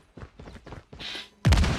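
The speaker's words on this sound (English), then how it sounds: "the fireworks are going off with Kral's name right now" Fireworks burst in a competitive online shooter match celebrating a round win, a loud sudden crackling blast arriving after softer rhythmic game sounds and a brief hiss.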